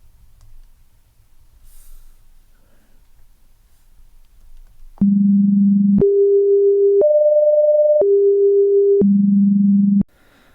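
A steady pure tone steps up in pitch and back down through five even one-second steps after quiet breathing, standing for the third harmonic of a string vibrating in thirds.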